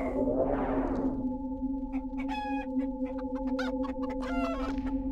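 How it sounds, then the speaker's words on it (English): A chicken in the video game Arx Fatalis clucks in a run of short, repeated clucks over a steady, droning game ambience, close and clear with no talk. "But he's still just clucking."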